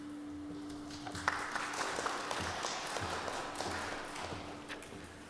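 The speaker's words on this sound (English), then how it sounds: "I never get applause on Sunday morning" Audience applause at a town hall on a local ballot held in a church fellowship setting. Steady, moderately loud clapping from a crowd, sustained throughout, with a faint hum underneath.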